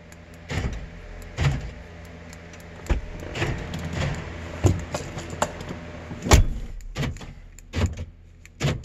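Power door locks cycling on a 2003 Ford Explorer Sport two-door during keyfob programming, heard as a series of sharp mechanical clunks spaced irregularly over several seconds inside the vehicle, with no talking.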